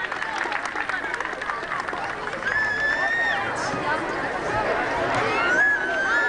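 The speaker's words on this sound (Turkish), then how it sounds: "Evet, alkışlıyoruz bu minik oduncuları." Audience applause and crowd noise for young children performing as little woodcutters at an outdoor spring festival in Kağızman, steady clapping mixed with chatter and a voice over the top.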